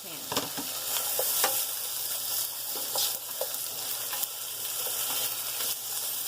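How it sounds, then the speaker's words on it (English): Potatoes fry in a pan with a soft continuous sizzle, punctuated by occasional light stirring clicks and scrapes, close but moderate in level. "we're going to start putting the potatoes in the pan"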